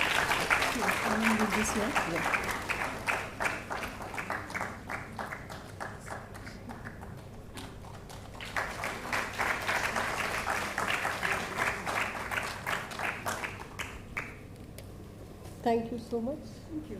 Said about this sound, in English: can we have a big round of applause for her?